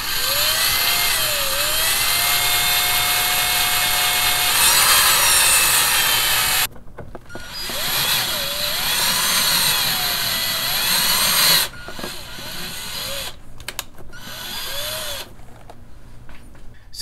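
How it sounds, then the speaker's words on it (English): A power drill bores through an HEI distributor in a workshop: a loud, sustained whine that rises and falls in pitch, with brief pauses and stop-start bursts toward the end. "So he's just going to leave it on and just drill through it like that and kind of hold it."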